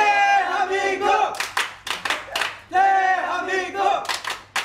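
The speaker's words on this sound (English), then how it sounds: "A cheer for the Korean team." A crowd at a U-KISS press conference in Singapore chants a rhythmic cheer for the Korean team, voices in unison followed by bursts of five sharp claps, then the chant and claps repeat.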